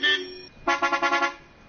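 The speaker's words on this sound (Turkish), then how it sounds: "Minibüsçü illa kornaya basacak." A minibus horn in Beşiktaş street traffic sounds one short honk, then a rapid string of five or six pulsing toots, loud and close.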